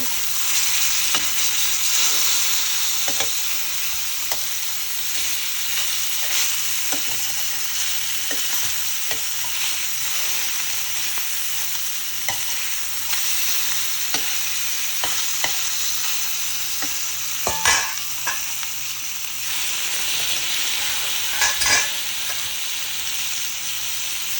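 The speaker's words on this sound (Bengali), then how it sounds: "দেখুন ভালো করে গরম করে নেওয়াতে মাছটা কি সুন্দর ভাজা হলো" Fish frying on a well-heated griddle gives a steady, close sizzle with occasional crackles and spatter bursts throughout, and no one speaks.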